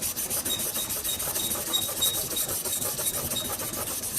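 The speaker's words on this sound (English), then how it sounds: "you need to go back and do it some more with the air sander" Air sander working over a car body panel during restoration, a steady close rasping hiss with a fast rhythmic pulse and a thin high whine, continuous with no pauses.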